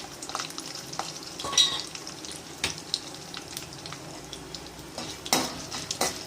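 Cashew nuts fry in hot oil in a pan for lemon rice, a steady soft sizzle broken by sharp clinks and scrapes of a stirring spoon against the metal, close by with no voices.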